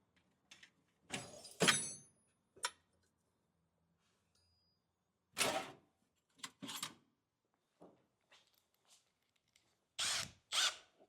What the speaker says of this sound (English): Guess I'll use a real drill bit.